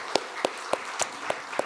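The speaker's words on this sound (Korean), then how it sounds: "우리 다음 세대 자녀도 축복하는 마음으로 박수 한번 쳤으면 좋겠습니다" Church congregation clapping during a Sunday sermon to bless the younger generation, heard as six sharp, evenly spaced claps in a steady rhythm, moderately loud over a quiet room.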